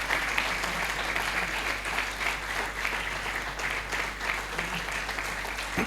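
A church congregation breaks into sustained, loud applause that rolls on evenly for several seconds, a dense wash of many hands clapping together with no gaps.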